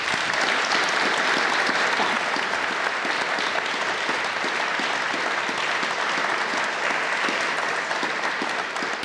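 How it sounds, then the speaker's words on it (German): Studio audience applauding at the close of a German talk show, a steady, dense clatter of many hands that holds loud and even throughout. "Mia Gray, ein Applaus."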